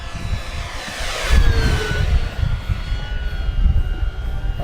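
FMS Version 8 Mustang RC plane flying overhead in wind, its electric motor droning steadily with a whine that rises and falls as it passes, moderately loud and alone.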